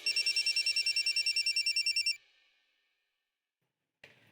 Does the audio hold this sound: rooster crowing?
no